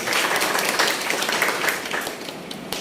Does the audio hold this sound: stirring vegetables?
no